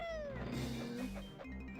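A cat in the Banjo-Kazooie video game meows in a drawn-out, wavering cry that falls in pitch, heard over game music and background sound.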